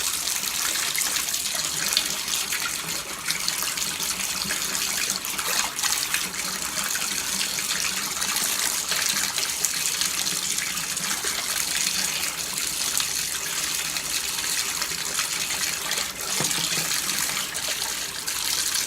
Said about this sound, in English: Oh, water's getting warm on me, so I want to wait until it goes back to being cold.